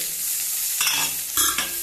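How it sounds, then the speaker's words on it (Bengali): Eggplant slices frying in a pan, a continuous close sizzle with a couple of sharper bursts as the pieces are stirred or turned. "এদিকে বেগুন ভাজা বসিয়েছি"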